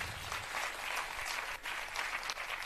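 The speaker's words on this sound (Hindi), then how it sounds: "एक बार हम अपने बुंदेलखंड के लिए जोरदार ताली बजाएं" Crowd at a Bundeli community gathering clapping loudly for Bundelkhand, dense continuous applause filling the room with no talk.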